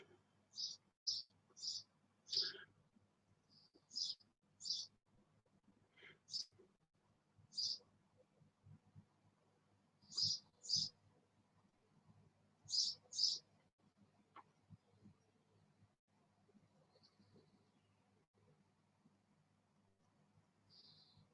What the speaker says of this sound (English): Now all I can hear is the fucking birds.